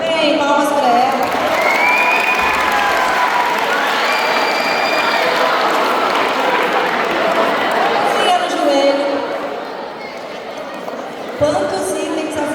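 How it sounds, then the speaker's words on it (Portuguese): Applause and cheering from a school crowd at an industry-day event for a student, a sustained burst of clapping mixed with chatter and a voice speaking over it, tapering toward the end. "Bem, palmas para ela."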